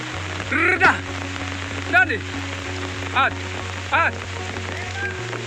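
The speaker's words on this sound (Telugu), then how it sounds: "వర్షం వచ్చి స్టార్ట్ అయింది" Heavy rain falls outdoors on grazing land, a steady wash of hiss under a low hum. Short, sharp calls cut through it four or five times at intervals.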